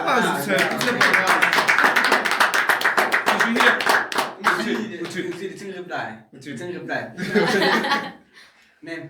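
A group claps together on a talk show panel, the applause mixed with chuckles and laughter and running under ongoing conversation before it thins out.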